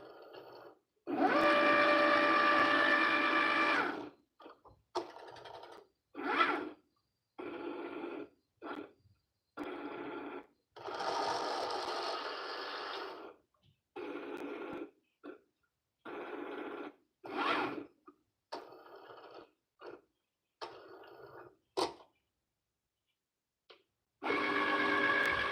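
A Cricut cutting machine scores paper for DIY Halloween treat bags, its motor whirring in bursts of varying length separated by short pauses, fairly close and moderately loud with no talking.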